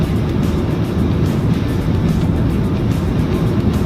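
A car travels along a 60 km/h road, its steady, loud roar of engine and road noise filling the cabin without any clear change in pitch.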